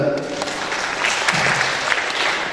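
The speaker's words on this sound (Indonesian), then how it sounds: "Tepuk tangan buat Mas Iqbal" Audience applause at a business seminar, a steady broadband wash of clapping with a brief voice near the start, holding even for a few seconds.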